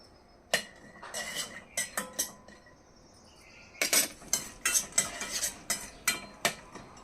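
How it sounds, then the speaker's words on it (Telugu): Peanuts are stirred in oil in a pan with a metal spoon. The scraping and clinking strokes are sparse at first, then come in a faster run of close, crisp clatters, with faint insect chirps in the background. "ఇదిగోండి ఫస్ట్ పల్లీలు వేసుకోవాలి కొంచెం వేగాలండి పల్లీలు"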